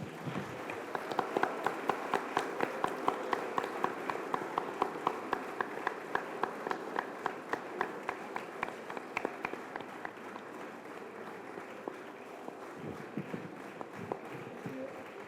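An audience at a school award and investiture ceremony applauds with rapid, sharp claps that stay dense for around ten seconds, then thin out and fade near the end.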